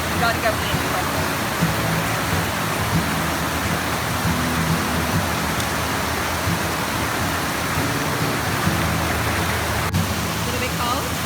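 Continuous broad rushing of water from one of the many waterfalls at Las Cabanitas, a steady dense roar with no break, close and fairly loud throughout.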